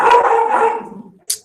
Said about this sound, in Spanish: Ay, mis perros.